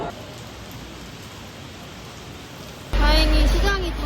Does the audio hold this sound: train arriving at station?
no